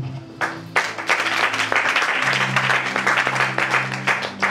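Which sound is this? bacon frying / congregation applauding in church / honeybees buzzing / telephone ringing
congregation applauding in church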